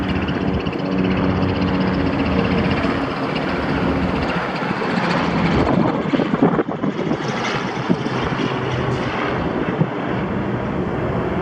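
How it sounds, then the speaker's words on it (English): Loud, continuous rotor and engine roar of a helicopter overhead, steady throughout with a broad rushing noise. "You see a helicopter?"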